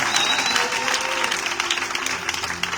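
A church congregation at a Sunday service applauds in a dense, continuous burst of clapping, loud and close, with faint crowd voices mixed underneath.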